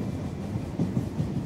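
A train car rattles along the rails with a low, continuous rumble and soft rhythmic bumps from the wheels, heard from inside the carriage with no talking.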